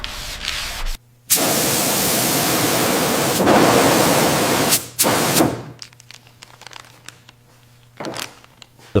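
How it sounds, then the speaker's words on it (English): Sanding the car body for paint during a Buick Skylark restoration: loud, harsh continuous rasping strokes, each lasting a couple of seconds, broken by short pauses and followed by quieter scraping and a few sharp knocks. "Sanding again. We need absolute perfection for the paint."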